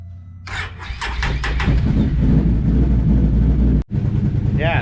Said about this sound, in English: He's fired up in the hole. This exhaust sounds good.